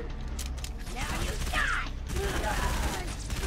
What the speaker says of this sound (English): I just got shot at from a mile away.